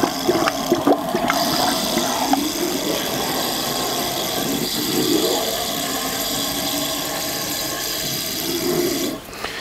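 Foam drain treatment is sprayed from a trigger applicator down a drain and past the P-trap, giving a steady close hissing, gurgling rush of foam and water that runs for several seconds with brief knocks near the start.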